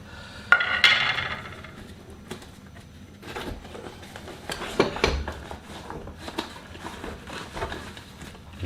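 Metal pieces of a British Army BCB Crusader MK1 kit clink and clatter as they are pulled out and set down, a sharp rattle early on followed by scattered lighter knocks.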